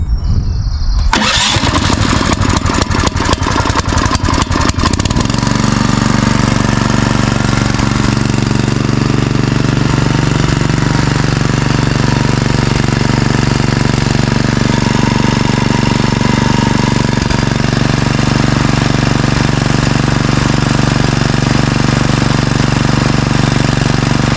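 A Howard 350 rotary hoe engine is started on choke: a burst of rapid sputtering firing, then it catches and roars into a loud, steady, rough running drone that continues unbroken for the rest of the clip.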